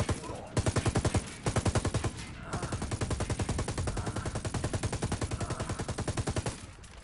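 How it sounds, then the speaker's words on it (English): Rapid automatic turret gunfire in the tactical shooter Ghost Recon Wildlands, loud sustained bursts with short gaps, cutting in and out over about seven seconds. "Turret gun."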